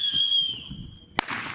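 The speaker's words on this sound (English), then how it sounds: "I'm gonna sue that firework company that just tried to kill Josh" Backyard fireworks launching: a rising whistle fades over low rumbling, then a sharp close bang bursts out near the end, followed by crackling noise.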